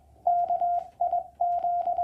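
Morse code CW tones on an amateur radio during a park activation, a clean steady beep keyed in short and long bursts, moderately loud and alone over faint background.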